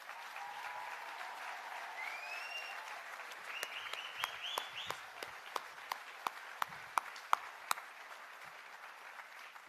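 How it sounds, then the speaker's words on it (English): A seated audience gives a sustained round of applause for a processing team at the grand opening of Caribbean Broilers' new processing plant. The soft, dense clapping carries on for several seconds, with faint voices early on and a few louder single claps toward the end. "I just ask that the rest of us give them a loud round of applause"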